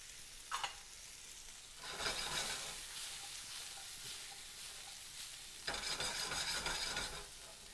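Tomatoes cook down in a pan alongside salmon with green onions and lemon, giving a steady soft sizzle broken by a few bursts of louder stirring and scraping close by.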